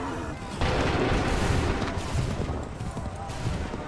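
A massed musket volley in the Assassin's Creed 3 Remastered game erupts suddenly after a short pause, then trails into several seconds of dense, loud crackling and rumbling gunfire with a battlefield din underneath.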